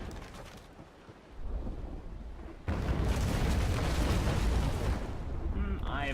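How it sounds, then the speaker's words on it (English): In a naval video game, a cannon broadside strikes a small yacht: a rumbling boom swells, then a heavier sustained blast of overlapping explosions and crashing impacts rolls on, with a faint voice near the end. "Get ready to receive a broadside."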